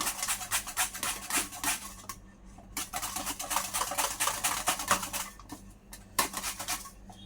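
Raw mango scraped against a grater for mango kasundi, a fast, rough rasping rhythm of short strokes up close, with a couple of brief pauses.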